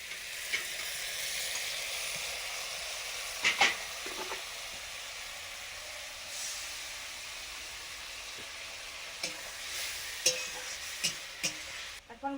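A curry of beans, potatoes and rohu fish simmering in a pan, giving off a soft steady sizzle and hiss, with occasional stirring scrapes and clinks scattered throughout.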